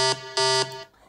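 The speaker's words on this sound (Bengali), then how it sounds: "classic alarm" Classic alarm sound effect: a loud, harsh buzzing electronic tone sounding in two long bursts with a short gap between them, alone with no voices.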